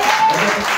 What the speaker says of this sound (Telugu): అదో గట్టిగా చప్పట్లు కొట్టండి ఒకసారి.